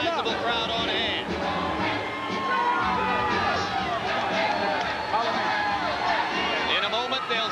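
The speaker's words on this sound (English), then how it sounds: "there is a sizable crowd on hand" A sizable arena crowd waits for a heavyweight title fight, a continuous wash of distant cheering, whoops and murmur filling the hall with no break.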